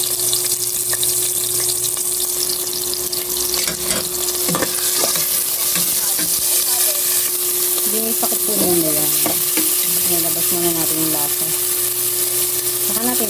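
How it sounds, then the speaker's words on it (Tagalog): Onion, garlic and ginger sauté in a hot pan with a loud, constant sizzle, broken by stirring scrapes and clinks, while a steady tonal hum runs underneath and faint background voices come and go. "Ginigisa ko po kasi muna para lumabas yung lasa ng luya."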